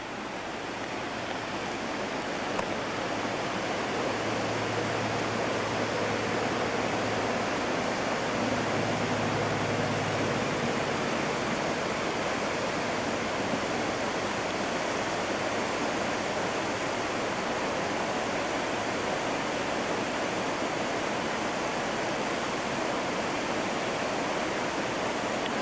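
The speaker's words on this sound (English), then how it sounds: "Nothing more spectacular, in my opinion, than having a campsite next to a raging little river like this" A raging little river rushes beside a campsite in British Columbia, a loud, steady, broad roar of churning water that fills the whole stretch without a break.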